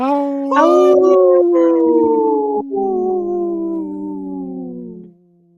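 A human voice imitates a wolf howl, joined by a second overlapping howl. Long, loud tones rise, hold and slowly fall over about five seconds, then stop.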